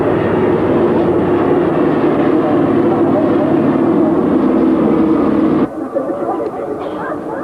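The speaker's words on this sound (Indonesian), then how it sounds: "Kini melintas di hadapan kita adalah pesawat Dakota" Douglas Dakota police aircraft flying past at an air force anniversary event, a loud sustained propeller drone that cuts off abruptly, with crowd and announcer voices underneath.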